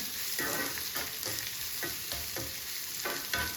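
Urad dal and a dried red chili sizzling in hot oil in a pan, a steady close crackle broken by several scraping stirs.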